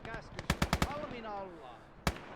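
Gunfire from the WWII game Gates of Hell: Ostfront in PvP play, a rapid burst of five or six sharp shots, then a pause and one more loud report, set against a quieter background.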